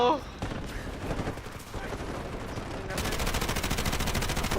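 Rapid gunfire in the shooter video game Delta Force, with dense overlapping bursts and automatic fire that grows steadier and louder toward the end.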